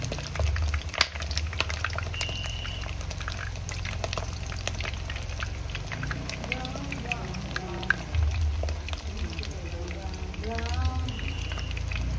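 Plantains for maruya fritters sizzle in a pan as they brown, a steady crackling fry running throughout while people talk over it.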